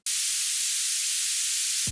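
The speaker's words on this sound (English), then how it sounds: "Simple white noise, and you put a utility there." Plain white noise played back in music production software: a loud, steady, bright hiss that starts abruptly, holds flat and unchanging for about two seconds, then cuts off.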